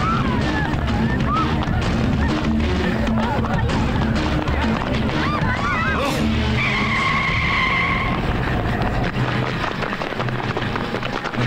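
A car skids and pulls away with squealing tyres during a chase scene in an Indian action film, loud and continuous over music and commotion, with people talking.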